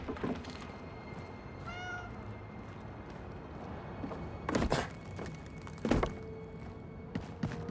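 A cat in Indiana Jones and the Great Circle gives a short meow amid quiet game ambience on a Vatican rooftop. A few soft thuds and footstep-like knocks follow.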